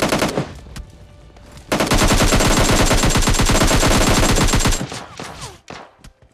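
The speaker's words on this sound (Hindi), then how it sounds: "इधर से आती गन शॉट्स की आवाज़" A loud, rapid automatic burst of gunfire in PUBG Mobile Lite, firing steadily for about three seconds after a few scattered earlier shots, then tapering off with lighter single reports.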